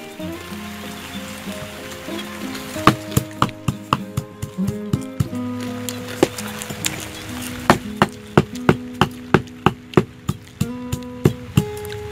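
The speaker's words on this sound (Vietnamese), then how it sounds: "giờ mình băm ra" A knife mincing chicken on a board, with sharp, rhythmic chops in quick succession over background music.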